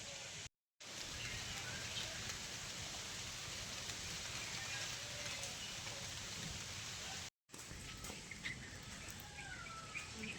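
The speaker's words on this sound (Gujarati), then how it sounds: "શુભ વરસાદની શરૂઆત થઈ ગઈ છે" Soft, steady rain falls at the ancient Keraleshwar Mahadev temple near Jetpur, a faint continuous patter with occasional bird chirps and two brief dropouts in the sound.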